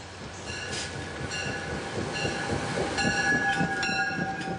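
Commuter trains pass close by near New York City, a steady loud rumble of railcars with rattling wheels, a sustained whistle-like tone and bursts of metallic squeal riding over the roar throughout.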